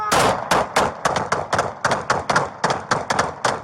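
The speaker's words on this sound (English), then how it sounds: "Shots fired. Shots fired." Police gunfire rings out in a rapid volley of about a dozen loud, close shots in roughly three and a half seconds, at a fast, slightly uneven rhythm, with no talking over them.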